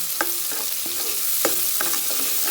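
Chicken pieces browning in a hot pan for chicken curry, a steady bright sizzle of frying oil broken by repeated scraping and clinking stirs of a utensil against the pan, close and without talk.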